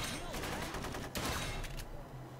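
Pump shotgun blasts ring out in the Blue Estate shooter, a few sharp reports in quick succession at low level, with a faint hum continuing afterward.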